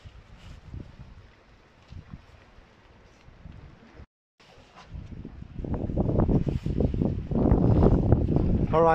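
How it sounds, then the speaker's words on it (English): Heavy rain pours outdoors beside the water near a small fishing boat in Spain, a steady broadband hiss that is low at first, drops out briefly, then swells louder and denser with wind buffeting the microphone. "I'm going to wait for this rain to stop a little bit"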